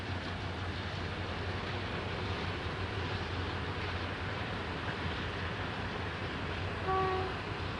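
A Baddow brake van and its locomotive pull away along a Queensland line toward Maryborough, a steady low rumble and rolling rail noise held throughout, fairly distant with no voices.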